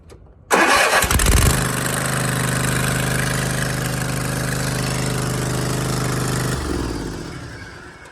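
A lawn mower engine cranks and catches after sitting unused for about 45 minutes, then settles into a loud, steady close-up idle drone that tapers slightly near the end.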